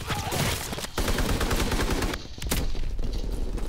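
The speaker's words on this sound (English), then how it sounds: "How did I just get outgunned with a grease gun?" Grease gun submachine-gun fire in the shooter game Call of Duty WWII, loud dense bursts of rapid shots with overlapping battle gunfire, a brief break near one second and a quieter dip before firing resumes.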